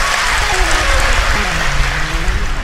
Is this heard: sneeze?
no